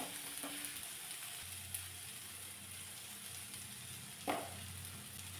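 Onions sautéing in hot oil in a pan for kanda poha give a steady, moderate sizzle with a low hum beneath, broken by a couple of brief clicks or stirring knocks.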